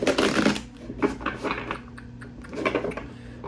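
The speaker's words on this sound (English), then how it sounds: "One more good shuffle." A deck of tarot cards is shuffled up close in quick riffling bursts, pausing briefly between passes, with no talking.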